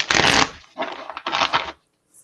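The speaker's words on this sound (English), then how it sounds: "Let me get one more shuffle in here." A deck of cards is shuffled in three quick, crisp riffling bursts, close up, followed by near silence.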